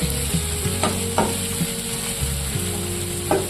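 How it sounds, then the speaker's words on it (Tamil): Steady sizzling of tomatoes sautéing in oil in a pan, with occasional scraping and stirring sounds, close and continuous. "தக்காளி சேர்த்து ஒரு ரெண்டு நிமிஷத்துக்கு நல்லா வதக்கி கொடுத்துருவோம்"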